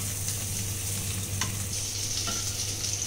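Potatoes frying in oil in a pan for Kashmiri dum aloo make a continuous close sizzle with a couple of light stirring taps.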